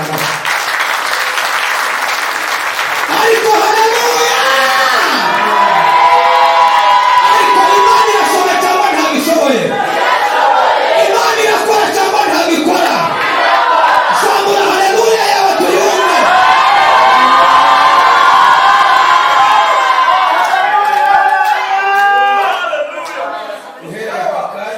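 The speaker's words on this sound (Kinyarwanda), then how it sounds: "Dukomere Imana amashyi." Church congregation applauding and cheering during a service, sustained loud clapping with whoops and shouts from a crowd, voices mixed throughout the applause.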